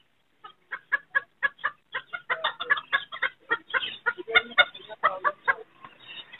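Sultan breed chickens cluck close by in a quick, rhythmic series of short clucks that grows busier and overlapping as several birds call together.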